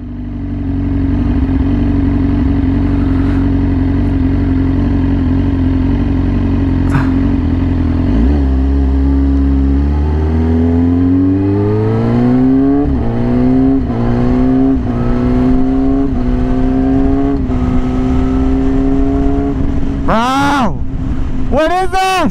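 A Yamaha R6 with a very loud aftermarket exhaust rumbles at idle, then pulls away through a series of rising revs and gear changes, ending in sharp high revs. A rider's voice is heard faintly over the engine.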